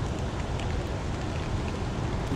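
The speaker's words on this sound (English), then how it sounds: "Here it starts to rain a lot harder" Heavy rain falls steadily at a lakeside fishing spot by Castle Rock Dam, a dense, even hiss of drops continuing without a break and with no voices.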